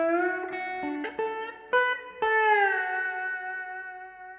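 Electric guitar playing slow bluesy phrases for a lesson, with a few plucked notes and bends ringing out through effects and reverb before one long sustained tone fades, no talking.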